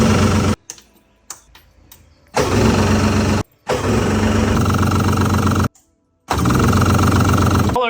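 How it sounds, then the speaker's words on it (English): The engines of a 1999 Yamaha jet boat crank over and over without catching. The loud, rapid starter churning comes in long bursts broken by short pauses. "we got both of the engines to crank. Now we just need them to fire up."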